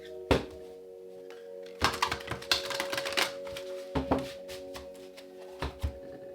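Tarot cards being shuffled, with a series of dry, papery riffles and soft slaps close by. The bursts come in uneven clusters over a faint steady tone, with no talking.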